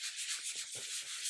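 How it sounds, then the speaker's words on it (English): Light hand-sanding of a wooden board gives a soft, steady scratchy rubbing with gentle back-and-forth strokes, quiet and close, with no talking. "So I'm going to go ahead and do a light sanding"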